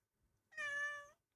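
A single clear cat meow, close and fairly loud, a drawn-out tonal call of about half a second rising out of near silence.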